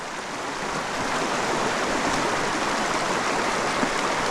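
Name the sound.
river rapids rushing water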